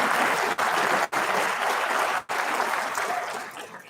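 Audience at a science and engineering fair awards ceremony clapping to welcome Senator Richard Blumenthal, dense steady applause filling the room, briefly cut off a few times, then tapering slightly toward the end.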